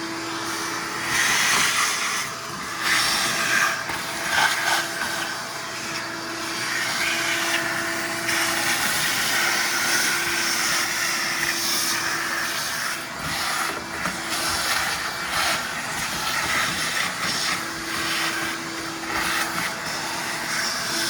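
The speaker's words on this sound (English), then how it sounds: "So we're gonna plug in the vacuum." A vacuum cleaner roars continuously with a steady whine and rough rushing air, its tone shifting slightly as it moves over surfaces, close and loud.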